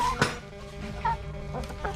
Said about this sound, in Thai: มีไก่ด้วย